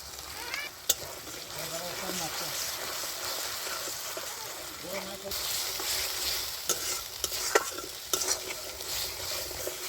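Spice masala stir-fried in a pan for a Bengali potato and green banana curry, a steady sizzle with scraping stirs and a few sharp clinks of the spoon against the pan.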